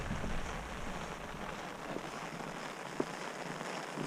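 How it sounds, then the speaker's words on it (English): Steady rain falls outdoors along a mountain trail by a lake, a soft continuous hiss with a faint gusty rumble and one brief tap partway through. "it's raining again"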